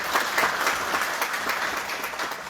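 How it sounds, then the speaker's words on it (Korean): Applause from a seated audience at a political lecture event in Jeju, dense and steady throughout, filling the room without a pause. "내려가실 때 다시 한번 큰 박수 부탁드리겠습니다"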